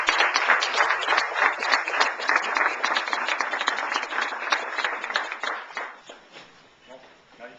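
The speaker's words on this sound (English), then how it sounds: "Let's give them a big round of applause." Audience applause for graduates at a St. Cloud campus graduation party, dense steady clapping from a room of people that fades out over the last two seconds.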